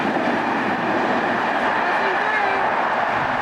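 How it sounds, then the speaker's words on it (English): Model railroad train running, a steady rumbling hum with faint clicking wheels and a light squeal partway through, continuous and moderately loud. "Hey, a model railroad."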